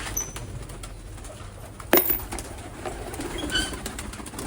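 Pigeons at a rooftop loft coo softly and steadily against a constant outdoor background, with one brief louder knock near the middle.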